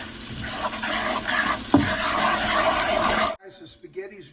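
Salmon pasta sauce is stirred in a frying pan, a steady broadband sizzle and scraping for about three seconds, loud and close, with one brief sharp clatter midway. It cuts off abruptly, and a voice speaks briefly afterward.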